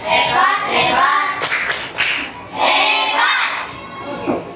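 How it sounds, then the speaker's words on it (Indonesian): Children in an Indonesian primary school classroom clap a rhythmic class cheer, loud and close, in quick bursts with short pauses and some chanting voices mixed in. "Kita kasih tepuk hebat lagi. Tepuk hebat."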